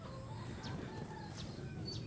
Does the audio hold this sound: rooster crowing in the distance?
yes